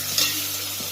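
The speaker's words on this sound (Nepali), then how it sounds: "यतिको भइसकेपछि मजाले चलाएर एकैछिन पकाउनुपर्छ।" Spiced bakula (broad bean) vegetable being stirred and cooked in a pan, a soft steady frying hiss with a brief scrape of the spoon, close and alone without talk.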